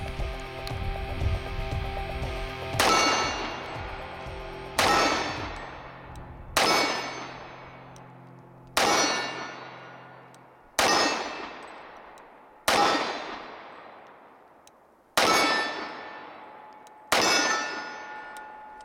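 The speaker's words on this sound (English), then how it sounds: "Let's try a little single-handed fire, see what that feels like." A 1911 pistol is fired single-handed: about eight sharp shots, spaced roughly two seconds apart, each followed by a bright metallic clang that rings and fades, loud and alone.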